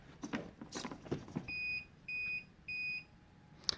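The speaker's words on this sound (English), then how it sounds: "the buzzer went off 3 times" A handheld stamping machine's buzzer sounds three times, each a clear, steady electronic tone of about a third of a second with short gaps between, preceded by light handling clicks and followed by a single sharp tick, close and alone.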